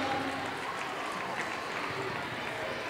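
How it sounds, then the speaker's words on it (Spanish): Applause from a live crowd at a science-themed mock wrestling show, steady and dense for the whole stretch, with faint voices and shouts mixed in. "Un aplauso para Alexander"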